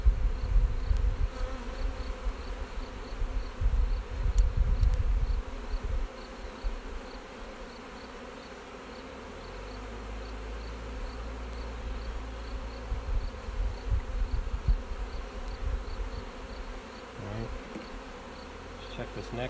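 Honeybees buzz steadily around a hive frame of fresh comb, a dense droning swarm close by, with louder rustling bursts early on as the frame is handled.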